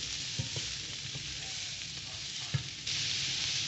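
Red onion, chili and garlic fry in olive oil with a steady, dense sizzle, a couple of soft stirring knocks, and the hiss swelling louder near the end.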